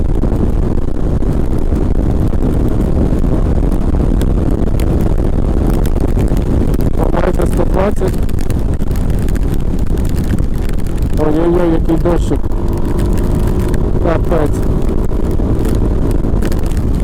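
Suzuki Skywave 250 Type S scooter riding on a road at around 6,000–7,000 rpm, steady engine drone under heavy wind buffeting, with someone speaking over it.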